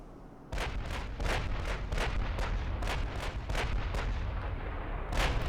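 Heavy 16-inch naval guns fire in repeated booming salvos in the warship game Ultimate Admiral Dreadnoughts, about ten loud blasts at a fairly steady pace over a constant rumbling background.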